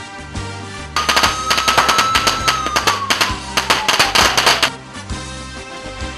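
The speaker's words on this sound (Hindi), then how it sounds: "इस मौका पर आतिशबाजी का मुजाहरा भी किया गया" A fireworks display at a public commemoration crackles in rapid bursts, with dense popping and a whistling rocket rising and falling, loud and close for several seconds before fading.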